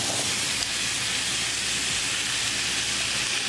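Potatoes added to onions in a pan over a medium gas flame, giving a steady soft sizzle and hiss close by, quiet and even for a few seconds, with no talking.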